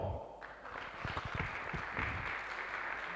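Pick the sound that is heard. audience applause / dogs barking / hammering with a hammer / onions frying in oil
audience applause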